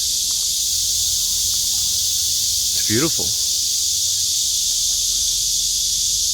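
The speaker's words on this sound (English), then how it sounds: "Ooh, cicadas. So loud." Loud, steady cicada buzzing at Namsan in Seoul fills the air, a dense continuous drone throughout, with a brief spoken remark in the middle.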